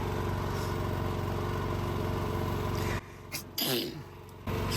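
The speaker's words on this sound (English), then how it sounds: "I'm gonna sneeze." A man sneezes once, sharply and close by, over a loud steady engine-like drone of an outdoor solar battery setup. The noise cuts out briefly around the sneeze.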